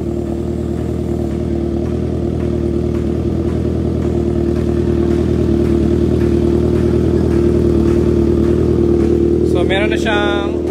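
A 2021 Kawasaki ZH2 or 2022 Suzuki GSX-S 1-liter motorcycle idles at full operating temperature, a loud, steady, even engine drone with a brief rising rev near the end.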